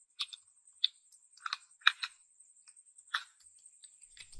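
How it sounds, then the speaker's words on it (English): Computer keyboard typing, with sparse, irregular key clicks in short bursts and pauses, fairly close and quiet with no talk. "here I am typing"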